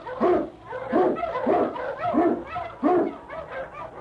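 Husky sled dogs bark and yelp repeatedly in an old radio drama sound effect, a steady series of loud, close barks with whimpering yips between them.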